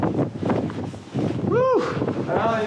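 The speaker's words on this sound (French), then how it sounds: "Oh là là, encore du vent aujourd'hui. C'est la belle tempête." Strong storm wind roars steadily across the microphone during a mountain ski tour, loud and close, with people talking through the gusts.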